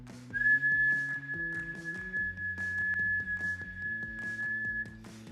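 A person whistles a single sustained, steady tone over a rhythmic musical backing during a trumpet lesson.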